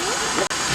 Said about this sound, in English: Here's the boiler and the steam engine.